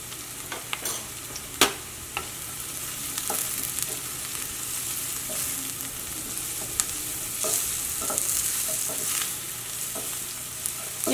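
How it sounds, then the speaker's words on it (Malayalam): Turmeric powder frying with sautéed onions in a pan for a spinach and egg thoran, a steady sizzle with occasional sharp clicks of a spoon stirring, no talking. "ഈ മഞ്ഞൾപ്പൊടി ഞാൻ ഇടുന്നിട്ട് നന്നായിട്ട് മൊരിയണം"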